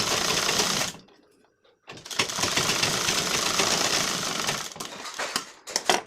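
A sewing machine stitches tucks on a blouse in fast, steady mechanical runs. It stops for about a second, then starts again and ends in short, choppy bursts.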